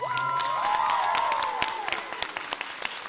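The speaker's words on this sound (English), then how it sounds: "Can we have one more huge round of applause for the finalists?" An audience at a theatre's Shakespeare monologue and scene contest gives the finalists a loud, dense burst of applause with cheering and whoops, sustained and then thinning into scattered claps.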